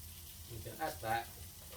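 Mixed spice and curry powder sizzling in a pan for Maltese rabbit stew, a faint low frying hiss with two brief louder stirring scrapes near the middle.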